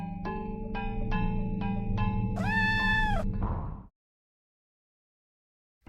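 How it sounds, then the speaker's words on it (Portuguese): A cat meows loudly in the video game OFF: one long, drawn-out meow rises over plinking synthetic tones, then everything cuts to silence. "ele está miando o mais alto que ele pode, para que os miados dele ecoem e retornem para ele mesmo"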